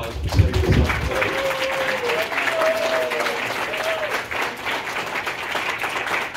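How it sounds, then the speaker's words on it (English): A parish audience applauds in a church hall, steady, dense clapping that stays fairly even for several seconds, with faint voices and a few tones mixed in. "I'd like to first of all give them a very nice round of applause for setting this up today."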